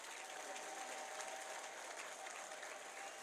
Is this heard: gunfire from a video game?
no